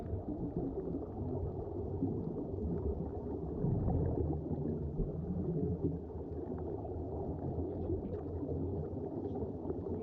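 Underwater ambience recorded on a GoPro during a scuba dive off Bali, Indonesia: a faint, steady low rumbling wash with gurgling and bubbly texture, continuous and without voices.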